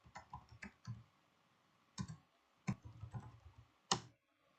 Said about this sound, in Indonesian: sekarang kita akan coba mengetikkan ipconfig renew